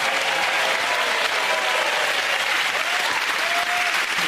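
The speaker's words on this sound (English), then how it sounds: "Give them all a round of applause" Dense, steady studio audience applause on the British TV comedy panel show Mock the Week, loud and continuous throughout, with a few faint voices mixed in.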